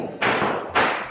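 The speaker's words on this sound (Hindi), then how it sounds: "लोग पटाखे फोड़ रहे हैं बाहर" Firecrackers burst outside during Diwali on a rainy night: two sharp, loud booms about half a second apart, each trailing off in a short rumbling decay.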